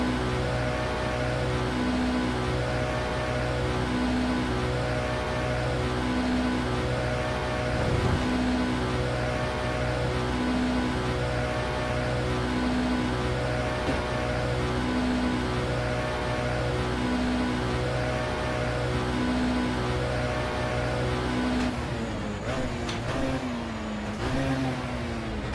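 The engine of a Lotus race car in a historic Le Mans racing video game drones steadily and loudly with a pulsing, rhythmic tone, shifting pitch near the end.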